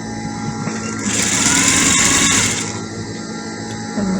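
A sewing machine stitches the front of an adult peplum dress, running in one steady, loud burst for about a second and a half before easing off, with no talking.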